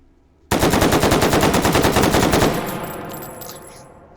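An AR-10 rifle in 7.62 fires one fast, loud fully automatic burst that rattles for about two seconds, then rings off into a fading echo.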